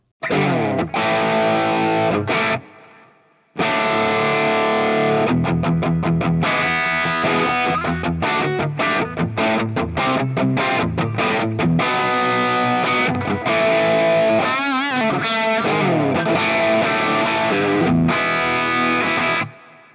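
Heavily driven electric guitar through a Hotone Pulze Mini amp's tight drive preset plays chugging, tightly gated chords and sustained notes, loud and dense, with a brief dropout near the start and a shimmery, modulated passage later.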